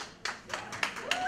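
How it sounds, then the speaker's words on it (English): A small audience at a school and ecology center fundraiser gives a few scattered claps, sparse and uneven, with a faint voice in the background. "I don't know if I heard enough applause"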